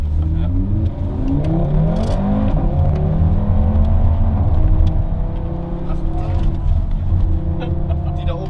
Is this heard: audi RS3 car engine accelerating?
yes